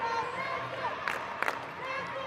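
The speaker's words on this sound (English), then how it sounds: "Great crowd here at the MTC Dome, really trying to get behind their team" A crowd at the MTC Dome cheers during a Namibia vs South Africa women's match, a steady hubbub with a couple of sharper bursts of clapping and shouts, moderately distant.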